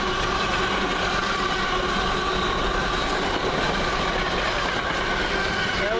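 Class 66 locomotive 66704 hauls a train past at close range, a loud continuous rumble of wheels and engine with rhythmic rail clatter throughout.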